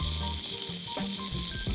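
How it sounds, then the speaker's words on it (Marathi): Ginger-garlic paste and finely chopped onion sautéing in a pan, a close steady hiss under a few low clunks and tonal kitchen noises, with no talk. "1 चमचा आलं लसणीची पेस्ट, छान परतून घेऊया. त्यात जाईल 1 मोठा चमचा बारीक कापलेला कांदा."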